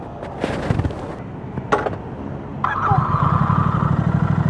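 A Royal Enfield motorcycle sharing its engine with the Continental GT, ridden on a test ride, starts up mid-clip and settles into a steady, close engine hum, with brief knocks and handling noises before it.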